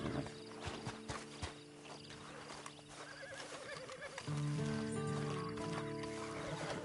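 Horse in Red Dead Redemption 2 Online, hooves clopping close by and a clear whinny, set over a sustained musical drone that swells partway through.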